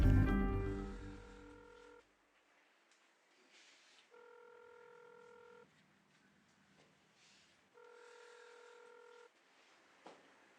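A telephone sounds three evenly spaced steady electronic tones, each lasting about a second and a half with quiet gaps between, faint and close, no talk.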